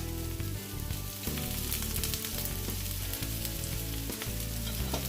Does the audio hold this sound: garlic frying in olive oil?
yes